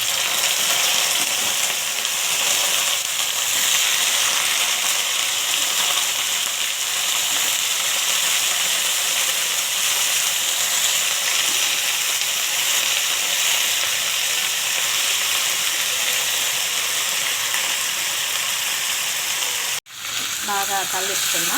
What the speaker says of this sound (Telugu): తాలింపు బాగా వేగింది. దీంట్లో ఇప్పుడు వంకాయ ముక్కలు వేసుకున్నాం.